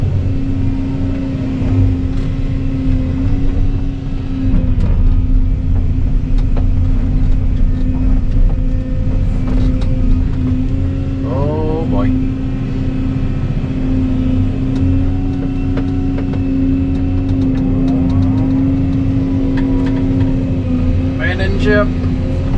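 A Volvo engine runs steadily while the vehicle backs out beside a pond worksite, with a constant low drone and occasional revving swells, close and loud for the whole stretch.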